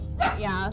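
Dogs bark briefly indoors in the background, a single muffled yip under a person speaking.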